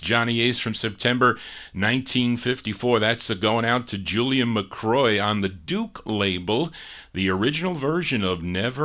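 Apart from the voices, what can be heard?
No distinct noise like a dog, phone or traffic.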